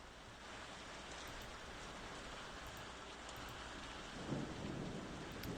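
Steady rain pours with low rolling thunder swelling near the end, a dense continuous storm ambience used as a background effect for a tabletop game, with no voices.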